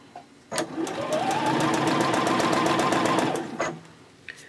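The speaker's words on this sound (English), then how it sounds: "And now I'll sew right across the zipper there" A sewing machine topstitching straight across a zipper on a small DIY backpack card holder, running in one steady, close, whirring stretch of about three seconds, with no talking.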